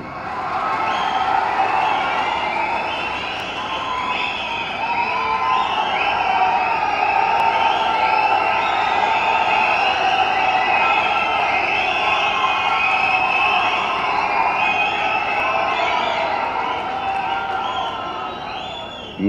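A large crowd of fans cheers and whoops nonstop, a loud, dense roar that holds steady for the whole stretch with no pauses.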